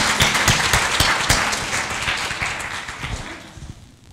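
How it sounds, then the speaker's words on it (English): Audience applause after a speaker is thanked, dense steady clapping from a crowd that holds loud for about three seconds, then thins and fades out. "Let's give her a round of applause"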